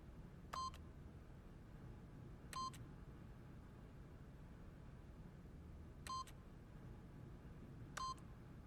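Keypad code entry in The Stanley Parable video game gives four short electronic beeps, one per button press, spaced unevenly over a quiet, low background hum.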